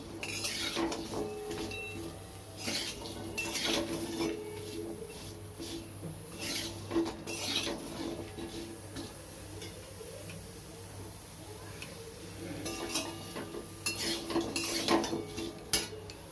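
Green mango pieces, washed and dried, are stirred in a dry wok for an oil-free pickle, giving repeated scraping and clinking of a utensil against the pan in close, moderately loud bursts, with no talk.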